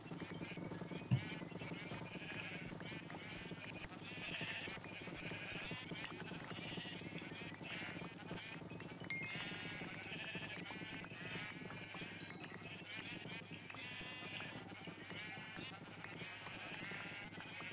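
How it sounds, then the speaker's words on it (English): Many sheep bleat constantly in a modded Minecraft game, a dense overlapping chorus of nasal bleats that runs the whole time at steady moderate volume, with no speech over it. "there's still crazy sheep noises in here"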